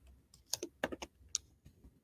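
Someone types on a computer keyboard in short irregular bursts of sharp key clicks, close and fairly quiet, with no voices.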